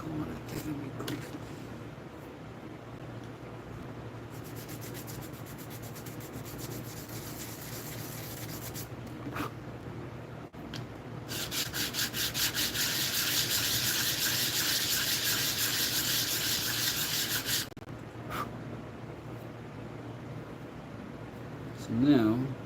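Rasping metal file cutting a chamfer around the edge of a small pendant: a steady, dense scraping run of several seconds mid-clip, framed by quieter stretches of faint background hum.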